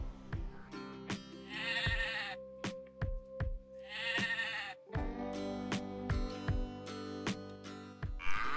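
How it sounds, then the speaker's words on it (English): A goat bleats repeatedly, loud and close, in a series of wavering, nasal cries separated by brief gaps, with no voices over it. "Goat, G-O-A-T, goat. We get milk and meat from goat."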